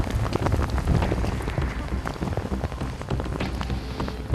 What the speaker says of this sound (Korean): 비가 오고 태풍이 몰아쳐도